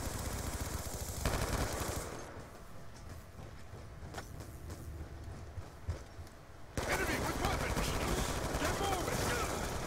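Rapid gunfire from a Call of Duty: Black Ops 2 multiplayer match, bursts and shots crackling through busy game noise, loud and dense at the start and end with a quieter stretch in the middle.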